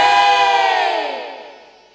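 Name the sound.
crowd shouting a devotional victory cry to Mahamaya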